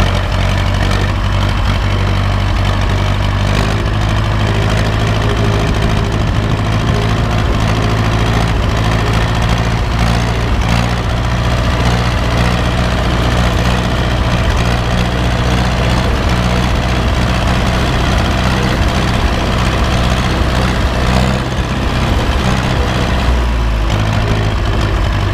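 Zetor 25 N or Ursus C 360 tractor engine running steadily while driving, a constant loud low diesel drone with no talk over it.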